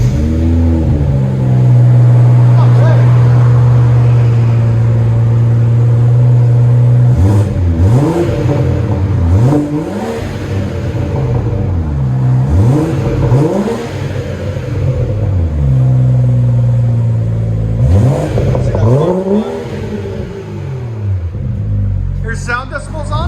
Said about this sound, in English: That's what it looks like after with a muffler delete.